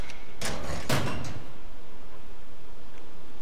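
A locker door in The Evil Within opens with two quick clanking bursts close by, followed by a quiet, still room.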